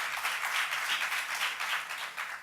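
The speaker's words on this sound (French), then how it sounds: "Et je vous demande de l'applaudir." An audience at a reception for the women's national team applauds, a sustained, even roar of many clapping hands with gentle swells, fairly loud and without speech over it.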